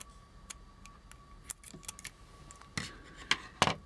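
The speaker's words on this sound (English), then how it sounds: "I'm just going to cut here and cut here" Scissors snip through packaging while a custom Star Wars Boba Fett and Darth Vader 1980 JC Penney holiday special 2-pack is assembled, giving faint scattered clicks and cuts, with a few louder snips near the end and no talking.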